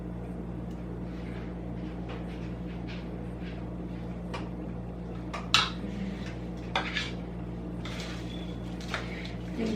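A chocolate chip mixture is stirred in a bowl, producing scattered scraping and clinks of utensil against bowl, some sharper knocks among softer strokes, close and fairly quiet over a low steady hum, with no talk.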